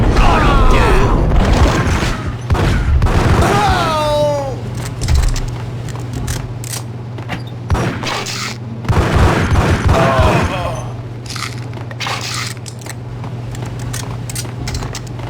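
Gunfire in the PS2 video game Max Payne, several sharp bursts and booming shots at intervals over a low steady hum, with voices talking between them.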